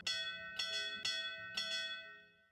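A bell in the video game Camera Anima rings four times in a steady, resonant sequence, each clear metallic strike swelling and then decaying over a sustained hum, close and prominent with no talking.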